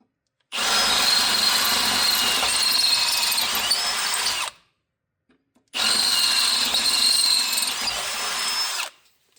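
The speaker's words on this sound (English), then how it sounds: "Grab our drill and drill out these holes." Power drill boring out roll-pin holes on a John Deere 7000 planter, two long loud bursts of steady high-pitched grinding separated by a brief pause, with no talking.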